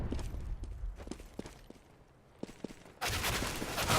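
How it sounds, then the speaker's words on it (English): Sharp gunfire bursts from an AK rifle in a competitive shooter match, several separate shots and short volleys, then a sudden loud wash of broadband noise takes over for the final second, with no voices. "AK fire from Zonic, devastatingly accurate"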